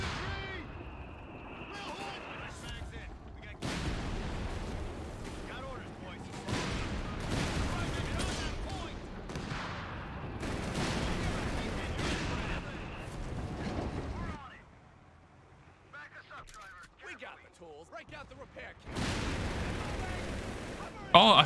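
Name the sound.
Nebelwerfer rocket and artillery fire in video game Company of Heroes 3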